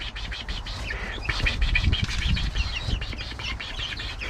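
Chickens and a white rooster are handled at close range, with wing flapping, rustling movement and short clucks in a steady, busy mix.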